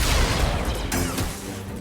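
Blaster fire in the video game Star Wars Jedi: Survivor erupts in a loud, dense burst of shots and impacts, harsh and close, filling a brief moment of combat.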